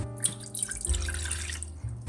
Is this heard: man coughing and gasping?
no